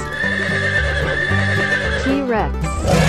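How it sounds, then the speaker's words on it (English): A horse neighs in a long, shrill whinny with hoof clip-clops beneath, loud and close, alongside a voice speaking and background music. "Horse."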